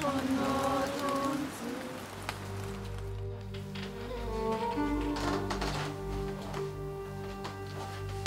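Steady rain patters on surfaces during an outdoor pagan nature ritual. The hiss is constant and fairly loud, with sustained droning tones layered beneath it throughout.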